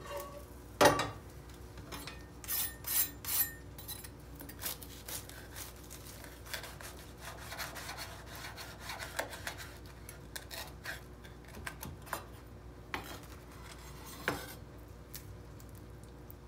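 A knife cuts through a crispy baked snack, fresh from the oven and ready to serve, giving a run of sharp crackly snaps and clinks against a plate or pan over a steady low background.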